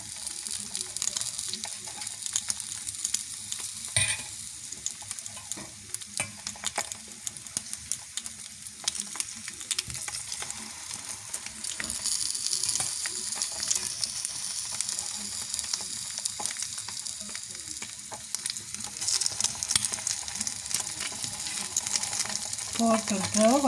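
Egg yolk fries in a pan, giving a soft, continuous sizzle with scattered clicks and scraping, while a voice talks intermittently over it.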